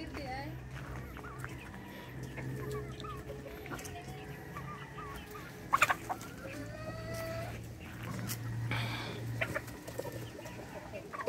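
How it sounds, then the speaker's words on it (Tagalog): Chickens cluck and squabble over food alongside a cat and dogs. The low clucks are close and fairly quiet, with a few sharper squawks and scuffles, and people chat now and then. "Daming manok oh."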